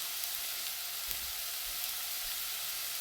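Onions sauté in a pan with a steady, even sizzle that continues without a break, close and fairly loud.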